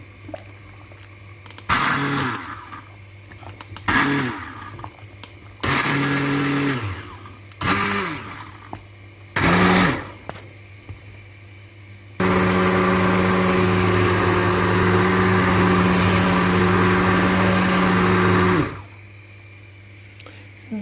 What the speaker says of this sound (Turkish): Pişti sadece blenderdan geçireceğim